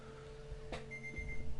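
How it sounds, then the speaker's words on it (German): A bedside alarm clock goes off, sounding a thin, steady electronic tone over a low hum, with one faint thump partway through. The whole thing is short and quiet. "klingelt mein Wecker auch schon"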